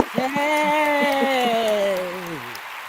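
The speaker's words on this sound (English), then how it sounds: "We're going to take questions now after we give her a big round of applause." An audience gives a round of applause after a talk, with light clapping underneath and a loud drawn-out cheering voice ringing above it.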